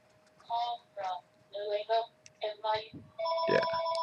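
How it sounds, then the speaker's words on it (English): A telephone ringing in a room, heard as several repeated bursts of ring tone with short gaps, fairly close and moderately loud, the final burst running longer and denser. "My phone is ringing."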